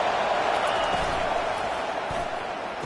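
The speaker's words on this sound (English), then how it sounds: "this crowd is making it miserable on this offense" Roaring stadium crowd in an NCAA college football video game on fourth down, a dense, steady wash of cheering and noise with no clear breaks, loud and continuous throughout.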